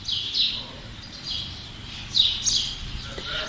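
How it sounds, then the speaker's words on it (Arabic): Small birds chirp in a tree over a quiet street, with a few short, faint bursts of high tweeting spaced a second or so apart over low background hum. "الشجرة بتاعتنا اللي بيقف عليها العصافير اهو"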